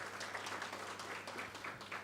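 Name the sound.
audience applause at report launch event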